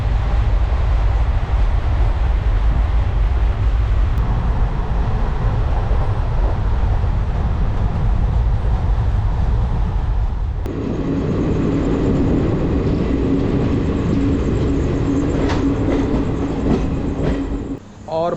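The Durg Ambikapur Express runs loud and close on its way into Bhatapara railway station, a heavy steady rumble and roar that changes tone partway through as the train slows, with a brief whine near the end.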